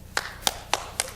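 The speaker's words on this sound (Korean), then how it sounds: "우리 선생님들 위해서 박수 치는 것도 알고요" Four slow, evenly spaced hand claps, crisp and fairly close, with no voices, in a room where a crowd applauds staff who are disabled coffee specialists.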